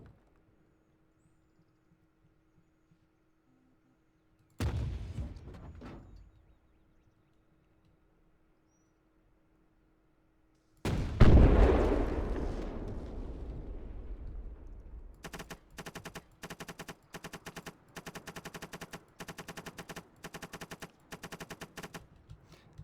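Armoured car cannon fire from an AML 90 in the Call to Arms video game: a loud booming shot with a long decaying tail, followed by a rapid sustained burst of machine-gun-like fire; an earlier blast occurs before it.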